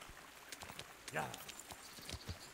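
Horse hooves clop along during riding in the medieval video game Kingdom Come Deliverance, a loose run of soft thuds beneath someone talking over the gameplay.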